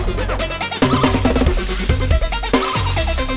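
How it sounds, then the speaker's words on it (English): A deep, clean 808-style bass with no saturation or clipping drives a busy electronic loop, booming steadily beneath bright melodic layers at a loud, even level. "I have an 808 style bass here. We can have a listen without any saturation and clipping."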